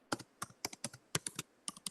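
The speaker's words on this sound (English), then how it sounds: "Oh, I hear somebody typing." Someone types on a computer keyboard, a quick, irregular run of crisp key clicks at moderate distance, with no voices.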